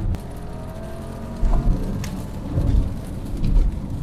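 Rain falling steadily on a Nissan Juke being driven around a race track in wet conditions, a continuous hiss with low road and engine rumble beneath, swelling louder in a few brief gusts.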